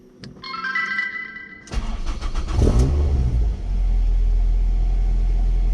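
A car fitted with a full Milltek non-resonated exhaust, 4-1 manifold and sports cat starts up with a sharp bark and revs, then settles into a loud, steady deep idle heard up close with the door open.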